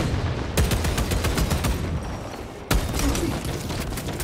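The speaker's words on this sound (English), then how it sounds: "Frag grenade deployed!" Frag grenade explosion and gunfire in the video game Space Marine 2, dense rapid shots with two sharp, loud blasts standing out, close and continuous.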